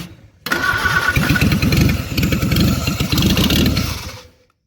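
A rebuilt Willys L-134 four-cylinder in a 1946 CJ-2A cranks briefly, catches, and runs with a loud, close, steady idle clatter for about four seconds before cutting off.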